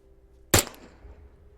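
A single sharp, loud pistol shot rings out in the zombie survival game The Dead Linger, then decays quickly into faint background ambience.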